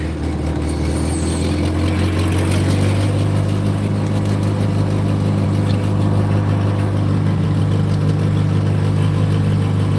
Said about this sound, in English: Gotta start my tractor so I get warm.